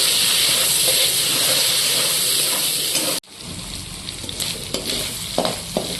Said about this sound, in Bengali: এই তেলের মধ্যেই দিয়ে দিলাম মাছগুলো, যেহেতু তেলে লবণ আর হলুদ দুটোই আছে